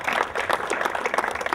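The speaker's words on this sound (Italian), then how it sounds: "Facciamo un applauso al mister Raffaele Barra." A small crowd at an Italian amateur football club's season presentation claps for the new coach, a short, moderately loud patter of scattered hand claps with no voices over it.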